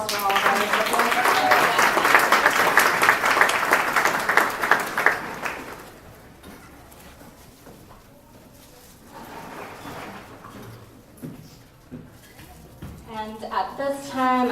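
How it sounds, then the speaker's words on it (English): An audience claps for award recipients at a ceremony, a dense round of applause for about five seconds that fades out before a voice takes over, with scattered claps returning near the end. "Can we get another round of applause for all of our recipients?"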